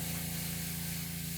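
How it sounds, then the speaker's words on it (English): An airbrush sprays food coloring onto a stencil laid over a cookie, giving a close, steady hiss with a low compressor hum beneath it, held without a break. "Be sure to spray rather close to the stencil with low coloring flow"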